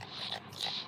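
A dog in the video game Minecraft gives two quick, soft whimpering or panting bursts, faint and brief, with no talking.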